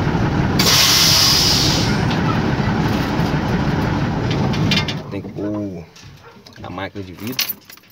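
Water spray hisses steadily and loudly against a car being washed for about five seconds, then fades as people start talking nearby.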